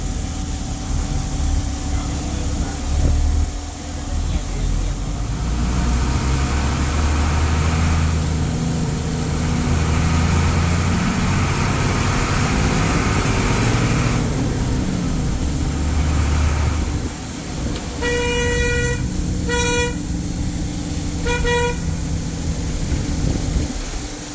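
A coach bus engine drones steadily at low pitch, with rumbling road noise and a few brief beeping tones near the end.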